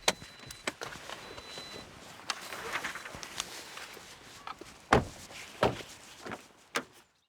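Footsteps approach a house door, then several sharp knocks land on the door and it is pushed open into a quiet room.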